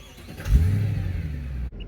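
A 2009 Mercedes-Benz CL63 AMG (W216) starts by push button: a brief crank bursts into a loud, close engine flare that settles into a rumbling idle, then cuts abruptly, followed by a faint electronic chime.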